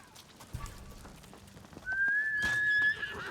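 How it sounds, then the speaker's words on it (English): A horse in a video game whinnies after being called, a bright rising-and-held neigh near the middle of the short clip, loud and close over faint game ambience. "I called my horse."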